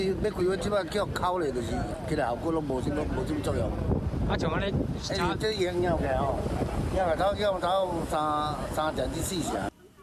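Strong wind roars and buffets the microphone in steady gusts while a voice talks over it throughout.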